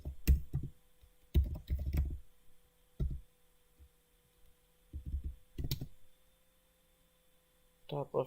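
Keys clatter on a computer keyboard in short, close bursts with quiet gaps between them, mid-session while writing code.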